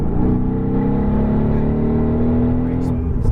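A Mercedes-AMG GT R accelerates on a race track, heard from inside as a loud, droning engine note that holds roughly level throughout.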